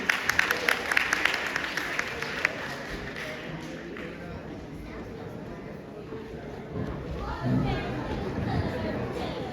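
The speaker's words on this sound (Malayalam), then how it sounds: "നല്ലൊരു കയ്യടിയോട് കൂടി നമുക്ക് അവരെ സ്വാഗതം ചെയ്യാം." Audience applause greeting performers at a Malayali association stage event in East London, sustained crowd clapping with scattered sharper claps early on and a swell near the end, mixed with crowd chatter.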